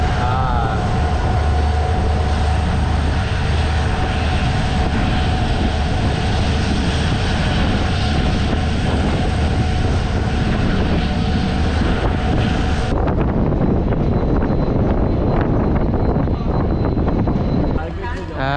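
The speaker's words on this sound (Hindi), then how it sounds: "स्पीड पकड़ेगी अब ट्रेन बहुत तगड़े में" A train running from Silchar to Tinsukia gathers speed, its loud, steady rumble and rattle filling the whole stretch, with the tone shifting abruptly near the end.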